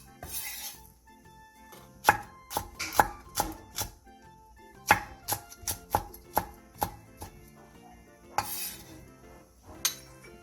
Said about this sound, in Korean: 대파 2분의 1개, 청양고추 1개, 청양 홍고추 1개를 어슷썰게 해주세요.